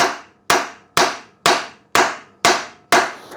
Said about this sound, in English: you grab yourself a decent knockometer, like this one, and you give it a few whacks like this